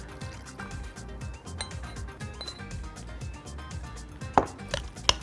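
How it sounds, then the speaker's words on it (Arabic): Spoon works a spice mixture with tamarind soak in a pan, giving quick, uneven scraping and tapping strokes with a few sharp clinks against the metal near the end. "هقلب كل الخليط ده مع بعضه كويس، وهنزل عليه كمان شوية من منقوع التمر نفسه"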